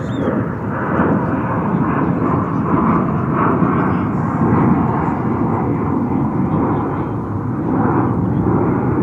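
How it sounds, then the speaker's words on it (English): A Qatar Airways airliner taxis for takeoff at DFW Airport, its jet engines giving a steady, broad rumble and roar that stays loud and constant for the whole stretch. "looks like Qatar to Doha is taxiing for takeoff"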